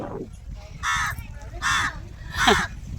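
Three loud, harsh caws spaced about evenly, each a raspy burst, with a low rumble of background noise underneath.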